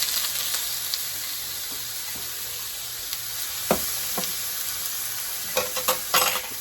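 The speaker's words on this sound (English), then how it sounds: "give this a stir" Pepper filling being stirred in a hot pan for Mexican-style stuffed green peppers, with a steady close sizzle and a few scraping clicks and taps of the spoon toward the end.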